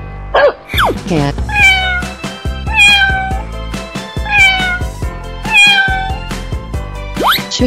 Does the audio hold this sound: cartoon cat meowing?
yes